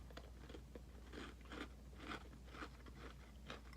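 Close, steady crunching and chewing of a Nature Valley biscuit with almond butter filling, a granola-bar style snack, with repeated crisp bites over a low background hum and no talking.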